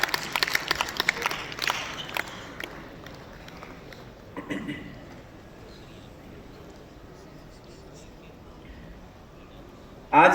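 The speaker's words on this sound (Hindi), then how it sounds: "मैं चाहूंगा कि हम सभी जोरदार तालियों के साथ हमारे आज सत्र के अतिथियों का स्वागत करें" An audience at a formal session applauds to welcome the guests, a broad wash of clapping that fades after a few seconds into quiet room tone with faint murmurs and a sharp sound at the end.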